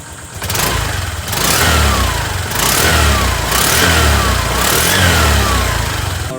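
Honda Click 125 scooter fitted with a PCX 150 fan, engine revved close up in repeated rising bursts that fall back toward idle between throttle blips, loud and steady with no talking.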